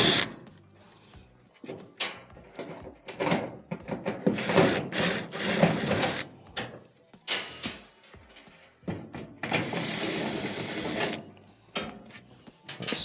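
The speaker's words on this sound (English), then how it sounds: "there are 3 Phillips screws that will need to be removed" A driver removes Phillips screws from the top panel of an LG dryer, making several close bursts of mechanical whirring and ratcheting separated by short pauses.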